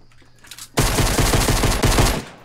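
Rapid automatic gunfire in a shooter video game, a loud burst of closely spaced shots lasting over a second after a quiet start.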